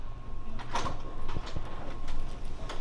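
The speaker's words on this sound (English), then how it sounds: "You heard the door" A door in a closet of a historic Anchorage hotel slides or rattles in its frame, giving a few faint knocks and scrapes in a quiet room, with no talking.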